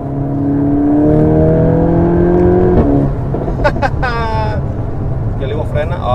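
A 444 hp VW Golf 8 GTI Clubsport engine accelerates hard, its loud, close engine note climbing steadily in pitch for about three seconds before easing off as people talk inside the cabin.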